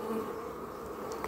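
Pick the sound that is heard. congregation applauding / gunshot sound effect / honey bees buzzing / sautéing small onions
honey bees buzzing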